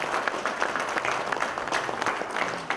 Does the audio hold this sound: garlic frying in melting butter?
no